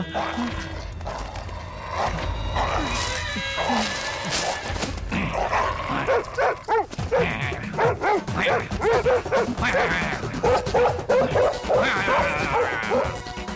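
A man imitates a dog with a run of yipping, whimpering barks, near and loud, repeated in a choppy rhythm over several seconds.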